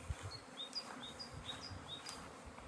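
A steady hum of bees swarming near beehives in the Spanish countryside, with repeated high buzzing passes as individual insects fly close by, fairly faint and without voices.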